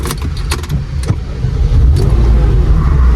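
A 1997 Porsche 993 Turbo S being started: a few short clicks and jangles, then the engine catches and settles into a loud, close, rumbling idle that fills the rest of the clip.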